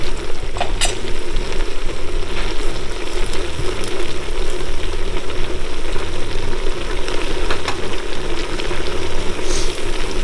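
Tomatoes hit a hot pan for jambalaya, giving a loud, steady, close sizzle and crackle that holds without pause from start to end, with faint stirring scrapes and no talking.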